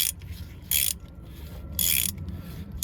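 Gear Wrench ratchet turning a tap backward to clear freshly cut threads, two short bursts of rapid ratcheting clicks with quieter grinding and rubbing between, close and alone.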